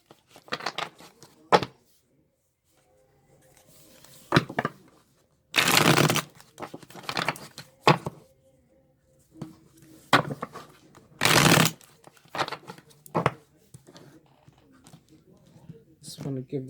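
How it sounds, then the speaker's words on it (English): Tarot cards being shuffled in bursts, with crisp riffling and flapping between stretches of talk, close to the listener. "Just want to give these a little shuffle in front of everybody."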